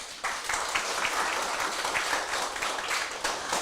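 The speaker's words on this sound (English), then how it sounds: "Let's give one final massive round of applause to all of our 19 incredible speakers." A school audience at a middle school English speech contest gives a sustained round of applause for the student speakers, a thick, even roar of many hands clapping that continues without a break.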